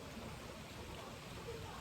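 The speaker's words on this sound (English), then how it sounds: "It's raining pretty good." Steady rain falls outdoors beneath a tree, a dense, even wash of patter with no clear pauses, close and moderately soft throughout.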